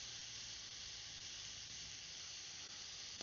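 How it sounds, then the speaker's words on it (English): Pork chops and vegetables cook over a campfire pit, giving off a steady, even hiss of frying fat that stays constant and fairly quiet throughout, with no talking. "These pork chops are cooking really fast. Um, I think, and you can hear it sizzling."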